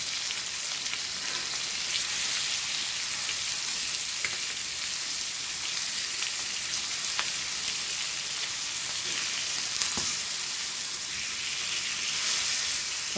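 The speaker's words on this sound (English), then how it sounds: "The fried fish is also getting ready." Hilsa fish frying in a pan for a Goan-style fish fry, giving a steady, dense sizzle with small pops and crackles that runs close and even, with no talk over it.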